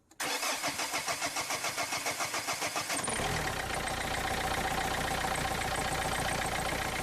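A car engine cranks with a rapid rhythmic churning for a few seconds, then catches and settles into a steady, loud running idle, during fuel injector testing and replacement.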